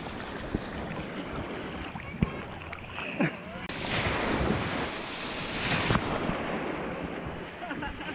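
Ocean waves wash onto a beach under gusty wind buffeting the microphone. The surf swells louder near the middle, and faint voices are heard at times.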